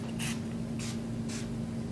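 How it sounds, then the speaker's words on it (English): A spray bottle is pumped three times in quick, evenly spaced bursts during a calm therapy session, each short hiss standing out over a steady low background hum. "Again, I don't spray randomly. Every spray has a purpose, a particular direction."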